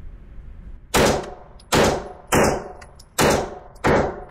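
Five sharp pistol shots from a Smith & Wesson SD9 fired at 7 yards on a range, loud and close, spaced evenly about a third to half a second apart, each with a brief ringing tail and no talk.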